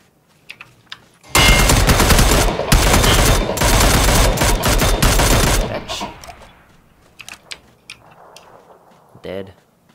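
Sustained automatic gunfire in the battle-royale shooter PUBG, a loud dense burst lasting several seconds with brief gaps, followed by a few sparser distant shots and faint talk.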